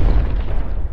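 A deep, heavy explosion sound effect from the Jurassic World 2 trailer, with a loud rumbling boom that holds steady for about a second before trailing off.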